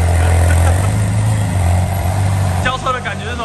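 A car engine idles at a service garage while being parked, giving a steady low hum close by. Voices and a brief shift in the engine tone come near the end.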